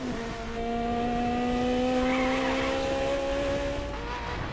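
Car engine in The Crew video game revving with a steady rising tone, loud and close, while tires squeal continuously across the clip, with no talking over it.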